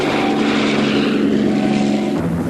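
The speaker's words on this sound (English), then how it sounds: "The helicopter swoops in, and 2 darts are fired into each elephant." A helicopter flies over elephants during a cull, its rotor and engine making a loud, steady, close drone throughout.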